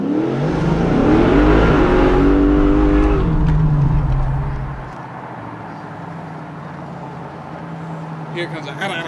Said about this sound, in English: That's a burnout, boy.